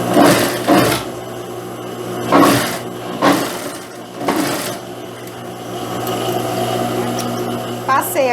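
Sewing machine stitching a seam on pantacourt pants, running in several short bursts of whirring separated by pauses, close and moderately loud.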